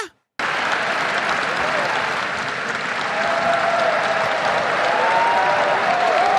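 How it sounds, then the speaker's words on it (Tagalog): Steady applause from a crowd, dense continuous clapping that starts abruptly after a brief silence and holds loud and even throughout. "Palakpak pa ng palakpak to mga anong to."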